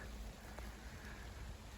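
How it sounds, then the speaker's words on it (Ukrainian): Soft, steady rain patters outdoors in a Carpathian forest, a constant hiss with faint drops throughout. "Дощ почався."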